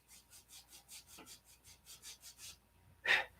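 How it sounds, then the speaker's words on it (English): Sandpaper rubs back and forth on the end of a cowl in a steady rhythm of about a dozen close strokes, followed by one louder scrape. "I'm sanding this angle so that it fits down in here like a cork, like a plug."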